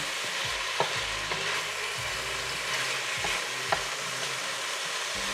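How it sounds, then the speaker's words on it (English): Pinakbet vegetables, including butternut squash, stirred in a frying pan, with a steady sizzle and a few soft scraping knocks of the utensil against the pan, close and alone with no talk. "After 3 minutes, stir it again."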